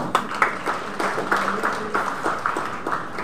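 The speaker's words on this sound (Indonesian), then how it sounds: "Tepuk tangan." Applause from conference participants at a church synod gathering, clapping in clear rhythmic bursts with a rough steady pulse, fairly close and loud, as the crowd claps together in time for several seconds.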